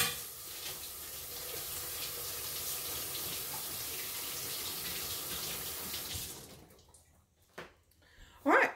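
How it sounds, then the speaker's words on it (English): Tap water runs steadily and close for about six seconds, then shuts off, followed by a few faint clinks and a brief splash. "I'm gonna rinse my hands off real quick."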